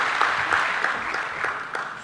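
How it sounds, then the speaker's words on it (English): Brief burst of audience applause at a social security fund members' meeting, moderately loud clapping with a few sharper individual claps standing out, no talking over it. "Another round of applause, please, for the Auditor General."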